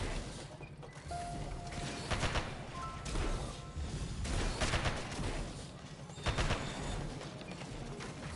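Rapid gunfire from strafing runs in the video game Sand Land, a dense, continuous clatter of shots with periodic louder bursts and crashes, filling the whole stretch without pause.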